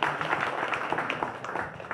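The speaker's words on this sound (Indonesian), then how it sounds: "Tepuk tangan yang meriah sekali lagi" Lively applause from guests at a fifth-anniversary ceremony at Mojosemi Forest Park after a signing, moderate clapping with a few sharper individual claps standing out.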